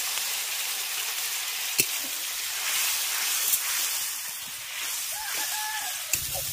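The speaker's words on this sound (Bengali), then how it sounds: "এবার অল্প পরিমাণে জল দিয়ে মশলাটাকে খুব ভালো করে কষিয়ে নেব।" Ground coriander, cumin and chili masala fries with a little water in a pan, giving a steady bright sizzle and hiss at close range, with a few sharp clinks of a utensil.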